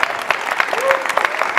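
A studio audience at a live music show applauds a rapper, bursts of clapping sounding loud and near, mixed with crowd noise and some voices.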